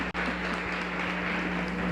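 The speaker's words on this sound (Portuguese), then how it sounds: "Vocês podiam bater palma para mim porque eu falei menos." An audience at a panel discussion gives a short burst of applause, a dense, even patter of many hands heard at a fairly low level.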